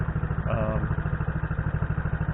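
A Honda CT90 motorcycle engine runs steadily with a low, even putter and a regular pulsing beat throughout, close and fairly loud, while a voice speaks briefly over it.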